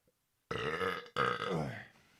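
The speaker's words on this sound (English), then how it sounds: "Hang on, first burp." A long, loud, drawn-out burp in two gurgling bursts, close to the microphone, with no talking.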